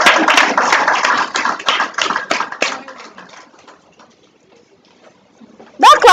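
An audience at a real estate course session claps for a barrister being welcomed to the stage, a dense burst of hand claps that thins out and fades to near silence before a brief loud sound at the end.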